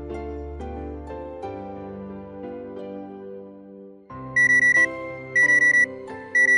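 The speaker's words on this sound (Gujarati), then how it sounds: "એક મિનિટ, હું અલાર્મ બંધ કરી દઉં।" An alarm clock rings in short loud bursts of rapid high beeping, three clusters repeating over background music with no talk.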